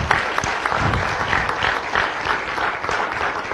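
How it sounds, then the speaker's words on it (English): Audience applause for a teen librarian at a Menlo Park youth poetry contest event, a dense, steady patter of many hands clapping that fills the room without pause. "Please give Gina a big round of applause."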